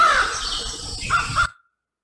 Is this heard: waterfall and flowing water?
no